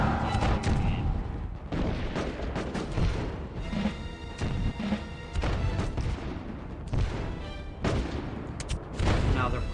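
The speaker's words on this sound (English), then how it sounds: "you have completely ignored my cannon" Cannon artillery fire in the Rise of Nations real-time strategy game, dense repeated booming blasts and crashing impacts layered over a busy battle soundscape, loud and continuous throughout.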